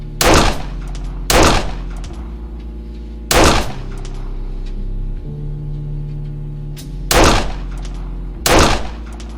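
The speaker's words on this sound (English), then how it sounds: "This little shooting range has 3 firing points." Gunshots at a shooting range in the video game Art of Murder, five loud, close single shots spaced a second or two apart over a low steady ambient hum.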